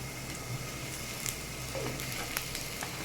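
Mustard seeds sizzle in hot oil with ginger for tempering a potato curry, a steady, faint crackling hiss that runs throughout with a few small pops.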